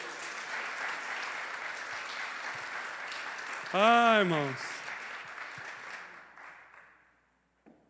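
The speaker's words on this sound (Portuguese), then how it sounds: "Você pode aplaudir ao Senhor por causa disso?" A church congregation claps steadily during a sermon; a voice calls out briefly over the applause midway, then the clapping thins and fades away to silence.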